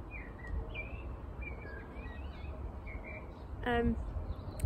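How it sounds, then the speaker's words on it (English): Robins sing at an allotment in a string of short, high chirps and twittering phrases, fairly faint and distant over a low steady background hum. "Oh my gosh, there's so many robins."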